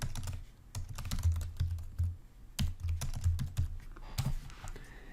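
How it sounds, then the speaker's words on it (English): Keystrokes on a computer keyboard as a category name is typed into bookkeeping software, a close, irregular patter of clicks in short bursts with brief pauses, no voices. "So I'm just going to type Owner Withdrawals."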